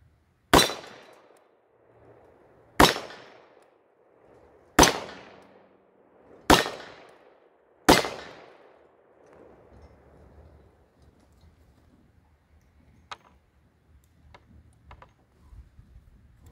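A Taurus 605 revolver with a 3-inch barrel, chambered in .357 Magnum, fires .38 Special rounds single action: five loud, sharp reports about two seconds apart, each ringing out, followed by faint metallic clicks.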